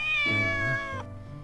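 A cat meows in the horror video game Corpse Party Book of Shadows, one clear, drawn-out, close meow with a wavering pitch, alone without talk, ending abruptly.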